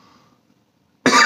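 A single loud, close cough bursts out after about a second of near silence, during an indoor beard product review.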